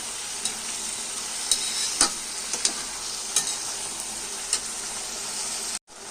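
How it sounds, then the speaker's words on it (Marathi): Tomatoes tossed into hot oil already holding curry leaves fry with a steady close sizzle, broken by several sharp stirring clinks and scrapes of a spoon in the pan, with no talking. "हे टोमॅटो पण टाकूया तेलामध्ये. कढीपत्ता पण टाकलेला आहे मी पहिले."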